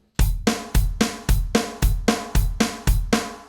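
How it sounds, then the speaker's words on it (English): A drum groove in an uptempo gospel feel, played with the hi-hat dropped out on each snare hit. Steady strokes land about every quarter second, each a sharp attack with a short ringing tail, close and loud, with no voice. "leave the hi-hat or ride out when you play the snare drum"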